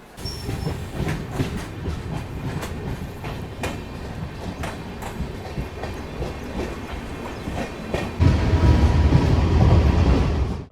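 Kacheguda to Madurai superfast express train running on the rails, heard as a steady loud rumble with rhythmic wheel clicks that grows heavier and louder near the end.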